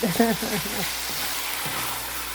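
Ground chicken frying in a pan, an even hiss of sizzling oil running throughout, close and steady, with a person talking briefly at the start.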